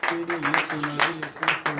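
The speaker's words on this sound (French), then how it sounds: "Donnez l'acclamation, frères et sœurs en Christ" A congregation at a Friday morning prayer service in Benin claps in a quick, steady rhythm beneath a prominent voice.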